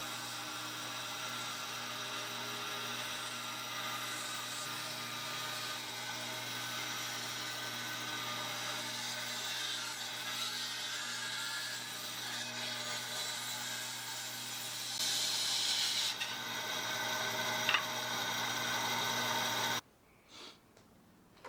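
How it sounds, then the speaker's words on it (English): A bandsaw cuts through wood, roughing out the bulk of a guitar neck, with a steady continuous whine and rasp running close and loud for about twenty seconds before stopping abruptly near the end. "I'm going to start by going back to my bandsaw and removing the bulk of the material that I don't need"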